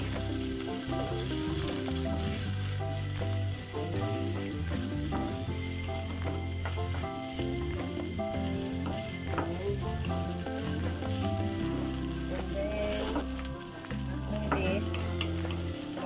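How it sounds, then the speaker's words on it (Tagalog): Onion and garlic sautéing in a pan for chicken afritada, a steady close sizzle and fry with clinks of a utensil stirring throughout, no talking. "continue to saute the onion and garlic"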